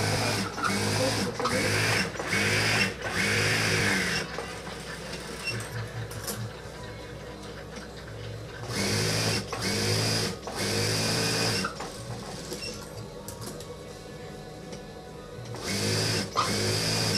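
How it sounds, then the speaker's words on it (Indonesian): Sewing machine stitching a diagonal seam on a fringed pillowcase, running in steady rapid bursts of a few seconds each with short pauses between them, close and clear. "selesai kita menjahit satu sisi ya tadi mulai dari sini sampai ke sini ya dengan jahitan berbentuk nyerong"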